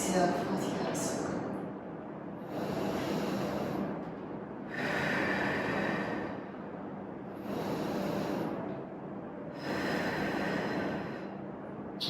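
Slow audible breathing during gentle seated exercise for seniors, long inhales and exhales alternating in a calm rhythm of about four breaths, close to the microphone with soft voiced sighs.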